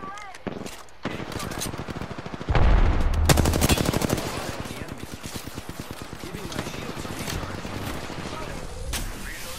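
Rapid automatic gunfire bursts in a video game, sharp repeated shots over several seconds, heaviest after a loud initial blast, with a player talking throughout.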